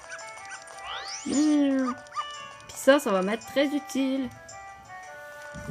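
Dog barking in Zelda Majora's Mask 3D, several yelping barks in bursts alongside tinkling game music, with someone talking over part of it.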